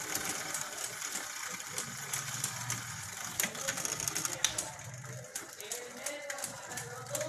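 A bicycle's gears and chain turn after a gear repair, making a steady, close mechanical whirring with light ticking that runs throughout at moderate level.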